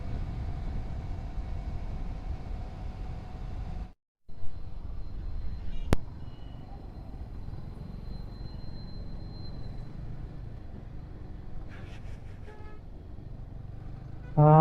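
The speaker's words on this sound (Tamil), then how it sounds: "அப்பா திருச்சி வந்தோடனே சரியான டிராஃபிக்காக இருக்குது" Heavy city traffic in Trichy: a steady, loud wash of engines and tyres with a brief dropout, a sharp click, and a few short horn toots near the end.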